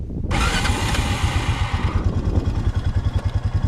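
A dirt bike engine roars close by on a motocross track, a sudden loud burst of revving that settles into a steady, throbbing rhythm of rising and falling pulses as the rider moves along.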